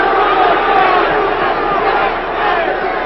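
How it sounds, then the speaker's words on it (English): A hockey arena crowd at an NHL playoff game between Toronto and St. Louis sends up a loud, sustained roar of disapproval that fills the whole stretch without a break. "Crowd doesn't like this."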